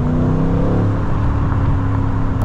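A 500 hp Mercedes-AMG engine cruising through city streets on a cold morning, a loud steady low drone with a deep harmonic hum, heard from inside the car with no talking.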